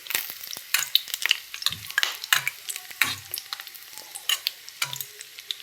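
Lentil fritters made from a batter of chana dal, masoor dal and green chilli frying in very hot oil, with sharp crackling pops and spatters coming in irregular bursts over a low hiss.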